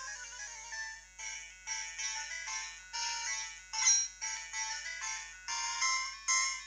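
In Pokemon Crystal, a phone call rings as a chiptune ringtone, a repeating run of bright, high electronic bleeps in short regular bursts, moderately loud and heard alone.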